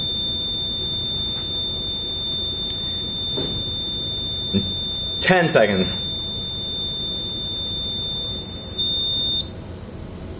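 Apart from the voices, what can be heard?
buzzer of a burglar alarm prototype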